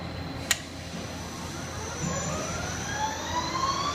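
A drive motor on a gearbox test stand switches on with a sharp click, then a whine rises steadily in pitch as it spins up, running under a low hum of machinery.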